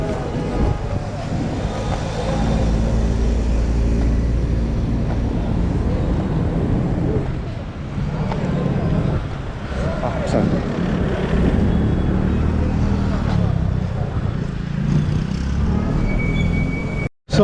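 Busy road traffic on a street in Dakar, Senegal, heard from the roadside on foot: a steady, loud rumble of passing cars and trucks with engine drone and occasional surges, continuous throughout before cutting off abruptly at the end.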